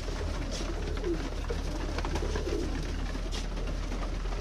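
Several pigeons coo softly and repeatedly nearby over a steady low background hum.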